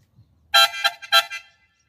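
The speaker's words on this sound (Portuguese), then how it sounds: "Buzina a ar é muito alto, galera." Loud car air horn blasts, a few short honks in quick succession from a Volkswagen Logus, ringing with a noticeable echo in an otherwise quiet space.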